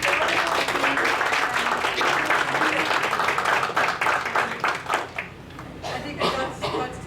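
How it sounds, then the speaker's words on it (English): Sustained applause from an audience at a borough board meeting, dense clapping filling the room for several seconds before thinning out toward the end. "I want to give them really a round of applause"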